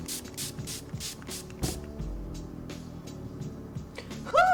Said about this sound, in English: I'm going to use this Farsali Rose Gold Skin Mist. And this is a hydrating and priming spray.